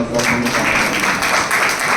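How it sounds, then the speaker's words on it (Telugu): Dense, steady applause from a church congregation fills the whole stretch, loud and continuous with a faint voice mixed in. "గట్టిగా చప్పట్లు కొట్టి"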